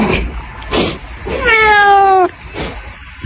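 A cat lets out one clear, drawn-out meow in the middle, loud and close, with a couple of short vocal sounds and light background noise around it.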